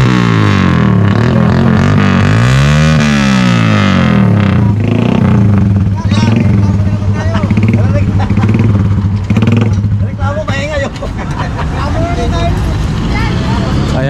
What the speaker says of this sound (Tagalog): Ayan yung tunog ng tambucho